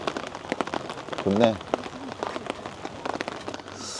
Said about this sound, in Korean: 빗소리 들리고